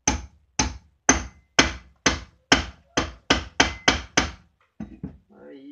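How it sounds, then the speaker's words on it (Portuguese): A small hammer gently taps a motorcycle final-drive sprocket flange bearing, held in a vise, a dozen times in a steady, evenly spaced rhythm, sharp and close, followed by a brief bit of speech. "pega assim o martelinho de lado. Bem, bem suave"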